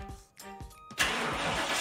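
A truck engine fires up by remote start: a few rhythmic cranking pulses, then the engine catches into a loud, steady idle roar close by, with no voices.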